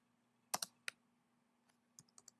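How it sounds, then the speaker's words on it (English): Several key clicks on a computer keyboard during a classroom lesson, a quick cluster of sharp taps followed by a pause and a few lighter, spaced clicks, close and fairly quiet with no talking. "whoops, we're typing here, you guys"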